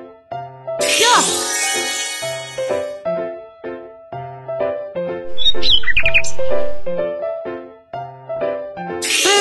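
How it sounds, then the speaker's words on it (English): A brief burst of cartoon bird chirping and tweeting rises in the middle of a cheerful looping children's tune, framed by sparkling swoosh effects. "Bird."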